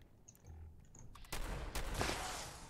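Shotgun blasts aimed at ghouls in the video game Fallout 76: two sharp, loud reports about half a second apart, over a quieter stretch of faint game ambience with small clicks.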